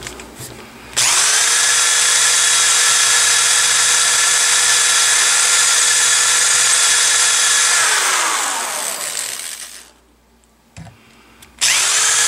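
Power drill boring holes during a Saiga 12 shotgun conversion: a loud, steady high-pitched whine sustained for about seven seconds, then winding down as the bit slows, followed by a short silence and a brief restart.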